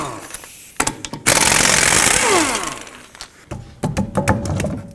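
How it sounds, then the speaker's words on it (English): A 19mm socket on an impact tool spins lug nuts off the rear wheel of a 2007-2009 Saturn Aura, a loud sustained whirring burst of about two seconds bracketed by sharp metallic clanks and taps close by. "just go ahead and take off the lug nuts with a 19mm"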